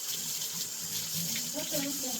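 Tap water runs steadily into a sink or tub while hair is being washed, a continuous watery hiss under faint background voices.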